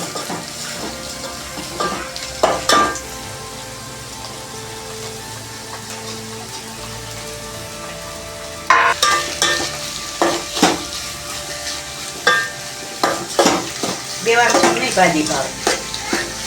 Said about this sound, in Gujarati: હવે મરચું ઉમેરશે નકે પૂરું ભળે ને એમ મીઠું નાખવાનું સ્વાદ પ્રમાણે બરોબર મિક્સ કરી લેવાનું